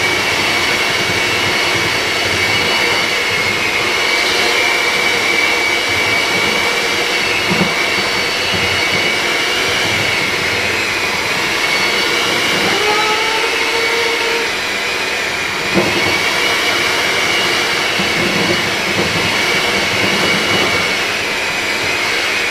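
A kitchen mixer churns red velvet cake batter at slow speed, a loud, continuous motor whir with grinding texture that holds steady throughout, with no talking.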